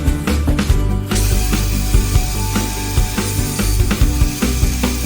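A domino joiner cuts mortises in 18mm MDF, a loud close motor whir with rapid rhythmic chattering and repeated plunging bursts, heard alone without talk.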